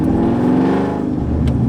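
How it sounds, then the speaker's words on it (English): A cammed, nitrous-equipped Ford Mustang with straight pipes revs close by, a loud, choppy, lumpy idle rising into a throaty rev and falling back, with no talk over it. "It sounds like a race car."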